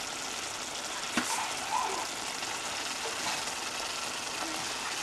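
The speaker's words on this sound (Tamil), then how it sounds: "இது நல்லா கொதிக்க ஆரம்பிச்சிருச்சு மசாலா." A quiet, continuous sizzling hiss of masala for mutton curry simmering in a pan, with a couple of faint pops and clicks.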